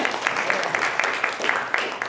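A church congregation at a revival service applauds, a room full of clapping in which a few louder claps land in a near-regular beat, steady and moderately loud with no talk over it.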